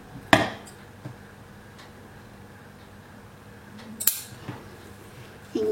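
Scissors cutting fabric for an overcoat collar kurti jacket: a few sharp, isolated snips and clicks, spaced seconds apart, in an otherwise quiet room.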